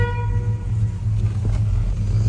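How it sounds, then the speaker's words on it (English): A 1968 Dodge Charger's horn sounds with a steady, sustained tone over a low engine rumble, close by and fairly loud, fading partway through. "Horn does work."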